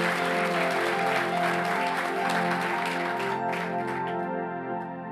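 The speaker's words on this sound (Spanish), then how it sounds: "Dale un fuerte aplauso a Él." Sustained applause from a church congregation during a sermon, dense clapping that holds steady and tapers slightly at the end, with music playing underneath.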